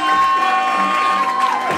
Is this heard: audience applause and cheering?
yes